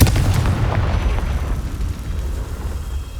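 A Confringo fire spell from Hogwarts Legacy explodes in a loud, deep boom that opens at full force, then rumbles and fades over a few seconds, with no voices.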